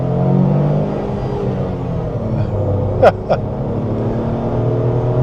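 A car pulls away from a standstill at full throttle through its gears. A loud engine drone climbs in pitch, then a brief pair of mechanical clicks marks a gear shift before the engine note settles lower and builds again.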